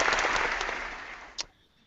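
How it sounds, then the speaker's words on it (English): Warm applause from a small audience, a dense wash of clapping that fades out after about a second and a half, leaving near silence with one last clap. "let's give a warm applause"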